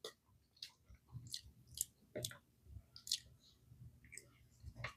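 Someone chews a crunchy carob-flavored dog treat up close, sharp irregular crunches and wet mouth clicks about once or twice a second, heard without talk.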